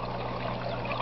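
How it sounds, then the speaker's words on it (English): Water starts to flow gently out of an aquaponics siphon, a soft steady trickle heard close and alone for a moment. "it'll start flowing out right here. It starts real gentle at first"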